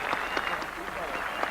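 A large crowd applauds Seve Ballesteros at the 18th green of the 1988 Open Championship at Royal Lytham and St Annes, a steady distant roar of clapping under a commentator's voice.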